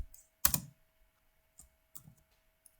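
Keys on a computer keyboard are tapped while code is written, a few sharp close clicks in an otherwise quiet room, with no talk.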